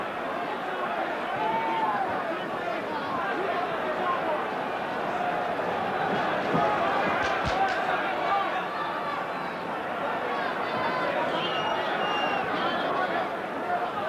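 A restless boxing-arena crowd at Barry McGuigan versus Eusebio Pedrosa murmurs and stirs between rounds, a continuous low hubbub beneath a commentator talking.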